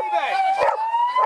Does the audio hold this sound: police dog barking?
yes